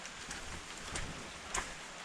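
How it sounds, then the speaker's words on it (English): Light rain falling near a waterfall in Colombia makes a soft, continuous hiss with scattered patters and one brief sharper tap, quiet and even, with no speech. "It has just started to rain a little bit."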